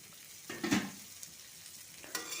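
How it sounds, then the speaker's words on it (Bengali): Cauliflower stirred with spices in a pan, a soft scraping stir near the start and another brief scrape later over a faint sizzle. "এ পর্যায়ে একটু নেড়ে চেড়ে দিচ্ছি যাতে নিচে ধরে না যায়"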